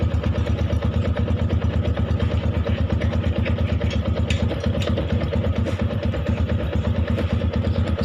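A motorcycle engine idles steadily and close by during a battery charging test, with a continuous even putter and no pauses throughout.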